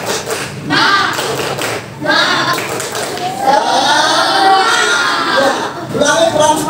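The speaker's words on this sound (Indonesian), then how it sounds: "Coba deh, yuk biar semangat yuk, tepuk semangat." A classroom group of children performs the 'tepuk semangat' rhythmic clapping chant, sharp claps in patterned bursts mixed with shouted chanting voices, loud and close.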